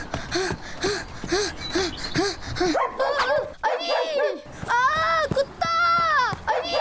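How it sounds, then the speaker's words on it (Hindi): A cartoon dog barks in a quick, steady rhythm while chasing, then breaks into higher yelps and whimpering cries, with frantic voiced shouts mixed in. "साद भाई, कुत्ता मेरे पीछे लगा हुआ है।"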